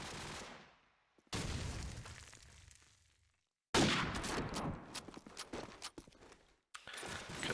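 Counter-Strike match gunfire: sharp bursts of shots and rapid clatter in loud stretches separated by short silent gaps, with footstep-like tapping, and no voices.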